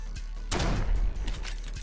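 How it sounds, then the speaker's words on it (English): A loud rattling crash in a horror video game: one brief, harsh, clattering burst that swells and fades within about half a second. "You then hear a loud rattling sound from where you just were."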